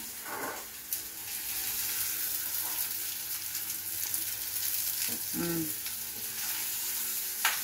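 Food fries in a pan with a steady, close sizzle that goes on throughout, while brief voices come through faintly now and then.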